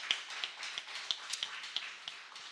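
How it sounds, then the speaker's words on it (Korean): Applause from a small church group comes as a run of light, evenly spaced claps at close range, fairly quiet, with no voices over it. "예, 또 박수 치겠습니다."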